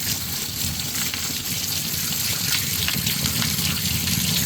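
Water rinsing over tumbled stones held in a screen, a continuous loud splashing gush close by with steady spray and no talking.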